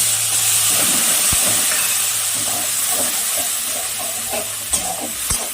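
Tomato paste fries in hot oil with a loud, constant hissing sizzle, while occasional sharp scrapes and taps of a stirring utensil cut through; the frying is close and steady, with no talking.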